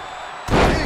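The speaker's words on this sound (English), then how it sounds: "Scoop slam!" A scoop slam in the WWE 2K20 wrestling game lands as one loud, booming body impact on the mat, breaking a brief quiet moment.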